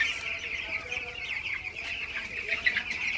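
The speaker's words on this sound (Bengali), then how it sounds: "আপনারা দেখতে পাচ্ছেন আমার ব্রয়লার এই মুরগিগুলা" Broiler chickens kept on a farm floor cluck as a dense, steady flock, many birds chattering at once in a continuous close chorus with no talking.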